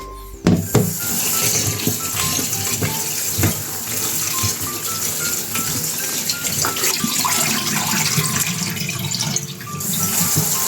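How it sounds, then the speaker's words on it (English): Running tap water pours into a bowl while salted eggplants are rinsed, a steady close splashing stream with occasional clunks and handling noises throughout. "Now we add water to wash out the salt on the surface."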